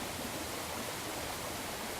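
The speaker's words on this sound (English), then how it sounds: "This construction filters the water that will be run to the electricity generator." Water pouring over the Coanda filter screen of a hydroelectric weir on the Watkin path up Snowdon, a constant dense hiss of rushing water, steady and broad with no variation or voices.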